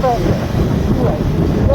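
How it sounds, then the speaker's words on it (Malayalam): Strong wind roars against the microphone during a bike trip toward Munnar, a loud, steady buffeting rush that lasts throughout. "കാറ്റിലൂടെ സത്യം നല്ല കാറ്റുണ്ടായി"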